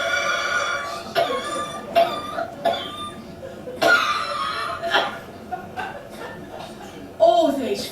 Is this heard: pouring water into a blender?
no